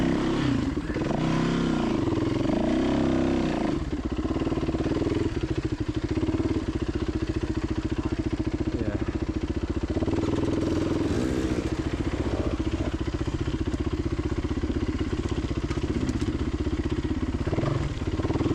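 A dirt bike motorcycle is ridden slowly through switchbacks on the Silver Lake Loop trail, its engine loud and close, running steadily with revs rising and falling and some clattering.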